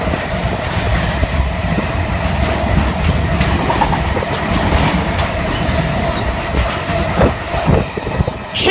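A train passes at Scopwick with a loud, close roar, rhythmic clickety-clack of wheels over rail joints and a brief squeal of wheels near the end.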